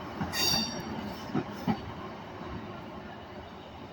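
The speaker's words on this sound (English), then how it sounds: "So arriving into Carlisle now, this is 156 465 from Whitehaven with one of their northern services." A Northern class 156 diesel unit, 156 465 from Whitehaven, rolls into Carlisle station with a low steady rumble, a brief high wheel squeal near the start and a few soft clunks of the wheels.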